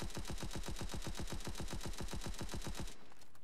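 Steady, fast automatic gunfire from the video game Bad Business rattles loud and close for about three seconds with an even rhythm, then cuts off abruptly.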